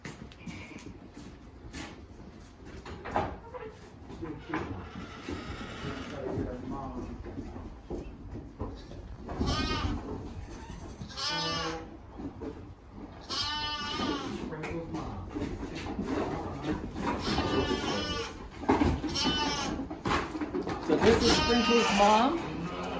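Sheep bleat at a shearing session, wavering calls repeating through the second half, mid-distance, under people talking.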